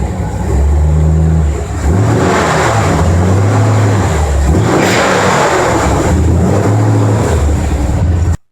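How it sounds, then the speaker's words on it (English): Ford F100 pickup with a 289 V8 and an Autolite 4100 carburetor starting and idling, then revving several times in rising and falling bursts, loud and close with no talk. "I need to fire up the old F100"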